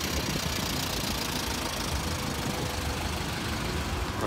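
A Volkswagen Beetle engine idles steadily at a car meet, a dense, continuous rumble with broad background noise and no talking.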